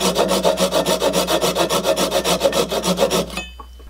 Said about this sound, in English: Let's try the crosscut saw first.